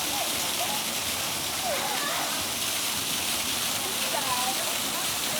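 Waterfall in Mississippi, a constant broadband rush of falling water that holds steady and loud throughout, with faint voices nearby.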